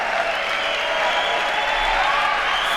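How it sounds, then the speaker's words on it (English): A stand-up comedy audience claps steadily, a dense wash of applause with cheering and whistling mixed in, sustained and fairly loud throughout. "I can't believe he's getting the clapping and the whistling."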